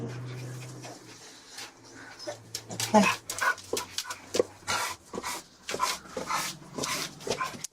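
Several dogs in the background of a police department lobby, yelping, whining and panting in uneven bursts, with people talking over and between them.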